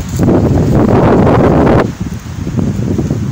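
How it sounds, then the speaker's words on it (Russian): Strong wind roars and buffets the microphone in loud, sustained gusts at a camper campsite, easing briefly before picking up again. "Ветер какой у нас разбушевался."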